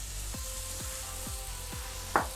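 Rinsed basmati rice is stirred into hot oil with turmeric and spices. A soft, steady sizzle runs throughout, with a spoon scraping the pan about twice a second and a sharp clink near the end.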